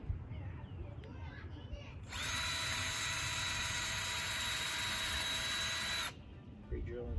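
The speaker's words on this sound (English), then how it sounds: "Pre-drilling holes to get the screws started" A power drill whines steadily for about four seconds while pre-drilling screw holes in pallet wood for an Adirondack chair. Low background noise is heard before and after.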